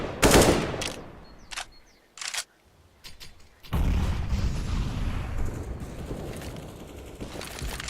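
Gunfire in the video game CS:GO during a competitive match, with sharp bursts of shots, a short gap, then a dense stretch of sustained firing and game noise.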